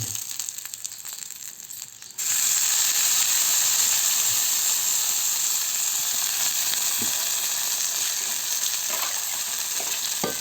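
Cleaned mushrooms drop into a hot pan and set off a sudden loud, steady sizzle that carries on evenly, with occasional faint knocks from stirring.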